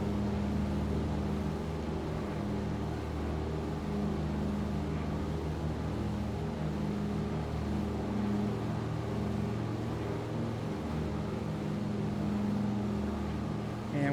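A simulated aircraft engine drones steadily at takeoff power in Microsoft Flight Simulator 2024 on PS5, a loud, even, continuous hum that holds unchanged throughout with no voices.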